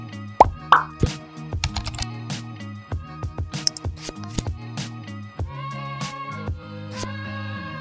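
Unboxing an Advan WorkPro laptop: close, crisp handling of cardboard and packaging, with a string of sharp plops, taps and rustles at an irregular rhythm, with no speech.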